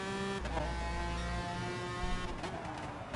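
A McLaren F1 GTR race car in the video game Gran Turismo Sport drones steadily at high engine pitch down a straight, with the tone shifting slightly near the end and no voices.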